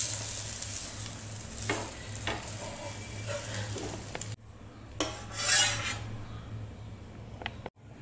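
Half-cooked egg is stirred in a frying pan over a soft sizzle, with a few distinct scraping strokes of a utensil against the pan; the frying noise drops away partway through.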